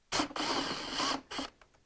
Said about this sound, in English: Now I'm just going to use a little ratchet to pull all these bolts out with